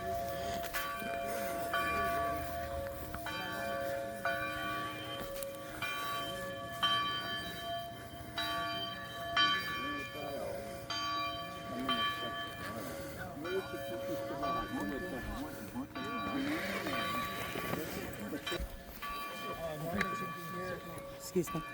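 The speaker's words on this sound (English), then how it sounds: "I hope you can hear that bell toll" A church bell tolls at the Back to Batoche procession and ceremony, its repeated ringing strikes heard at a distance under the murmur of an outdoor crowd and nearby talking.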